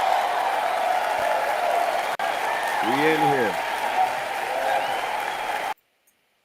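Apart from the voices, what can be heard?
crowd cheering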